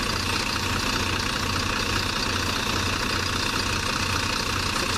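A Mercedes-Benz Citaro bus engine idles steadily at close range, a loud, constant low rumble with a faint knocking pulse and hissy background noise, with no voices.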